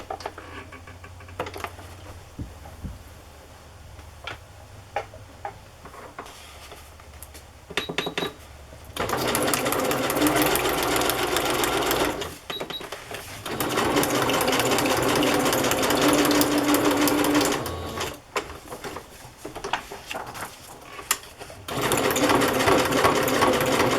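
A sewing machine stitches a collage onto a Little Golden Book journal in loud, steady whirring bursts, separated by quieter pauses with small handling noises.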